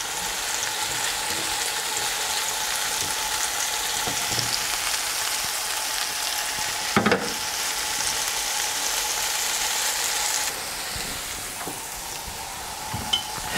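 Keto zucchini fritters sizzle steadily in a hot pan, a dense, even hiss with a brief scrape as one is flipped midway, then the sizzle softens slightly as the heat is turned down.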